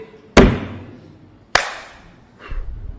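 Bare hands pat together sharply during tayammum, the dry ablution done with dust. Two crisp, close slaps sound about a second apart, followed by a soft rustle, with no talking.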